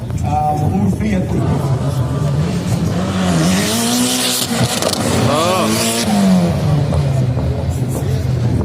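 A small race car with a 1000cc Fiat engine revs and accelerates hard nearby, its engine note rising and falling through gear changes, with tires squealing and a voice talking over it.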